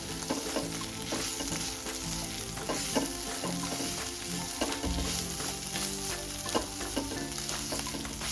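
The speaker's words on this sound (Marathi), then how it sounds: "कोथिंबीर टाकून झाल्यानंतर आपण थोडंसं परतून घ्यायचं त्याला" Kolhapuri golma with plenty of coriander being sautéed and stirred in a pan: a steady, close sizzle of frying broken by scraping stirs, with no talk.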